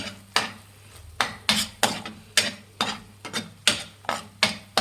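Chopped capsicum is stirred in a hot pan while cooking radish manchuri, with a spoon scraping and clanking against the metal in a steady rhythm of about ten close strikes over a faint sizzle.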